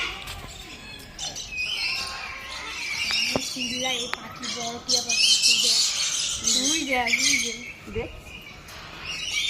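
Several birds squawk and chirp at a deer park, repeated calls near and far over a constant outdoor background, while people talk and laugh throughout.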